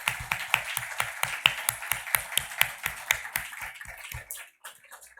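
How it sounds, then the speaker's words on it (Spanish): Scattered applause from a small audience after a speaker finishes a lecture session, a steady run of separate claps that tapers off and fades near the end. "Le vamos a dar un aplauso."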